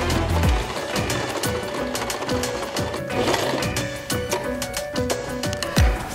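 Sewing machine stitching a seam on a handbag made from a rug, a steady rapid mechanical whir with a repeating low thud of the needle, running close and loud for the whole stretch with no talk.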